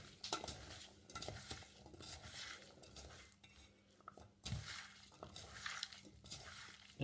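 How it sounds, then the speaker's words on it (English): A spoon clatters and scrapes around a bowl as black pudding and apple stuffing are mixed, making irregular knocks and soft squelching stirs, close and fairly quiet, with no voices. "So we'll give this a good mix about."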